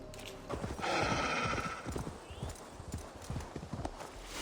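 Hooves clip-clop in a quick galloping rhythm with a horse whinnying near the start, over a rushing background, in Assassin's Creed Valhalla.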